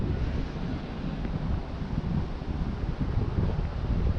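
Outdoor wind while a DJI Mavic Mini drone is flown, heard as strong, constant buffeting against the microphone, a deep rumbling roar with no breaks and no voices.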